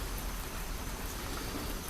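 Steady rain falling outdoors, a dense even hiss of drops hitting surfaces, continuous and moderately loud with no voices.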